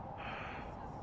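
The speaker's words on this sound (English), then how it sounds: "that was a yawn, wasn't it?" A single drawn-out, breathy yawn close to the mic, a steady airy exhale lasting about a second with no other sounds around it.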